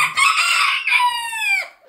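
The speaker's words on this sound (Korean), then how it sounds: "소리 내고 있죠? 백색옹자보 꼬꼬꼬 하고 있죠?" A small white silkie chicken gives a close, steady run of high, strained clucking calls, rising into a drawn-out crow-like note before falling quiet.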